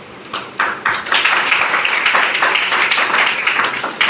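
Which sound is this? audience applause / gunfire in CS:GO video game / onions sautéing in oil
audience applause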